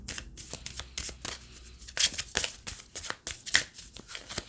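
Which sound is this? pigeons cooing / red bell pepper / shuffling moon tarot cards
shuffling moon tarot cards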